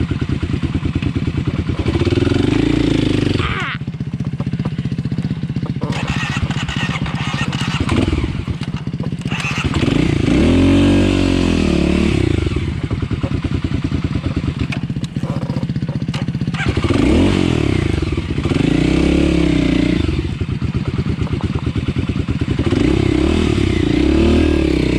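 A motorcycle engine revs repeatedly in loud bursts during a hill start, rising and falling as it strains, with brief drops to idle between pushes.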